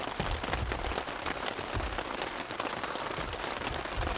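Steady heavy rain patters on a taut surface overhead, a dense, continuous drumming heard from close by with no voices.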